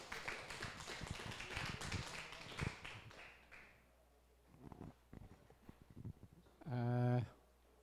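Scattered clapping from a modest audience at a closing ceremony greets a speaker, loud at first then thinning into sparse claps and taps, with a short electronic tone near the end.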